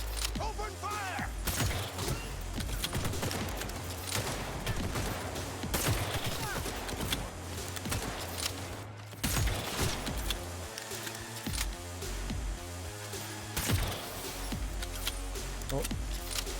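Gunfire in a cyberpunk tabletop game session: sustained bursts of rapid shots with mechanical clanks and creaks, continuing with brief lulls, while voices talk over the din throughout.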